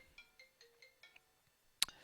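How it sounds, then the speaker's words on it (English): A phone ringtone chirps in a quiet room during chess commentary, a short run of repeating electronic tone pulses, then a sharp loud click near the end, with no voices. "Sorry about that phone."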